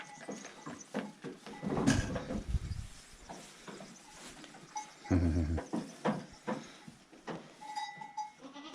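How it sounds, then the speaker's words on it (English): A goat bleats on an off-grid farm in central Portugal, a few calls rising over outdoor farm ambience while people chat nearby. "Edna's my favourite goat"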